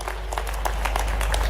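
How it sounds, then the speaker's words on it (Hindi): Audience applauding at a public development-works inauguration event with the Chief Minister in Neemuch, a steady, dense wash of clapping from a large crowd with a low hum underneath. "जोरदार ताली बजाओ"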